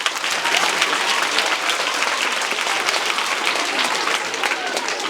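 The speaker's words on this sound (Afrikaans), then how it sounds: "Ja, kom ons gee maar lekker hande klap." Children clap together in steady, loud applause at a school event in Kenhardt, a dense patter of many hands that holds evenly from start to finish, with voices faintly mixed in.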